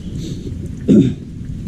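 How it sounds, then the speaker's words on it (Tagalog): Steady rain falls throughout, with a single low, muffled rumble of thunder swelling briefly near the middle before the hiss continues. "Sana matitigil itong ulan ngayon."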